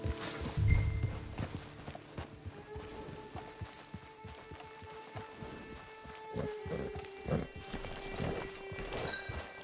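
Horse hooves clip-clop in Red Dead Online as a rider arrives at a camp, a steady run of hoofbeats over a faint outdoor game ambience with a brief whinny near the start.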